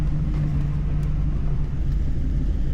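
A 1932 Ford hot rod engine runs steadily during a test drive, a continuous low rumble with a strong droning hum that stays loud and even throughout, without clear revving.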